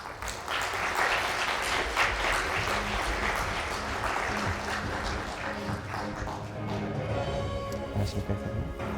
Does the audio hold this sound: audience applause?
yes